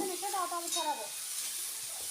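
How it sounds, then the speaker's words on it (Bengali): Potatoes and peas fry with salt and turmeric in a hot pan, giving a steady close sizzling hiss, with a voice speaking briefly over the start. "এরপর আলু মটর একসাথে আমি ভালো করে ভেজে নেব"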